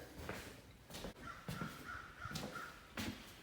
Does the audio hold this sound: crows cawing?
yes